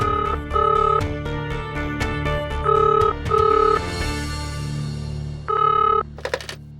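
A telephone bell rings in several repeated bursts with short pauses between them, loud and close, over a steady low background hum.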